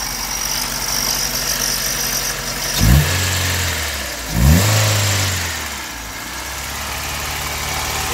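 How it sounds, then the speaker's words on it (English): Engine of a Honda Civic EK hatchback starts with two short cranking bursts, then settles into a steady idle, close and loud with a constant hiss and no talk. "So let me go crank it up."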